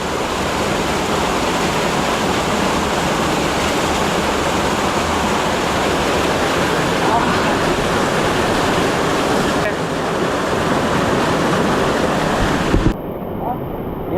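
Water rushes down Vibhuti Falls in Karnataka as a loud, close, steady roar that fills the whole stretch without pause.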